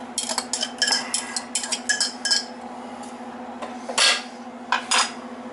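Vidalia sweet onions being tipped into a pot of beef stew, a quick run of clinks and clatters from utensils and pot, then a pause before a couple more knocks, with a steady low hum underneath.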